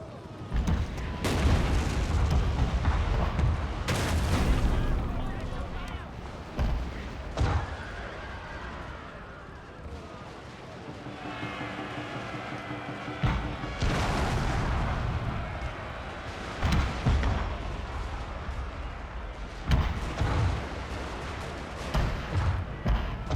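Cannon and artillery fire in the Shogun 2 Fall of the Samurai strategy game, with repeated heavy booms and rumbling volleys over a dense battlefield din, loud and continuous, with some quieter stretches between salvos.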